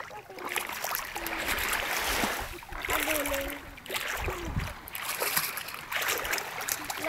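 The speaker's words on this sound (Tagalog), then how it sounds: "Lakas ang alon." Strong sea waves slosh and splash around a boat in surges over several seconds, close and fairly loud, with people talking over the water.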